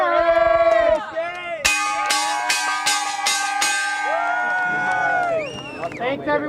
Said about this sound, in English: we got to partake in the bell-ringing welcome ceremony